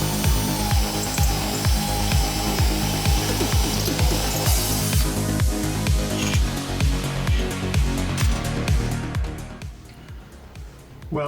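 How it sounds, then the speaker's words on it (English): A power drill grinds loudly through a Mazda Miata's front-end part in rapid, rhythmic pulses, the whirring steady before easing off near the end. "I'll have to drill this hole bigger here"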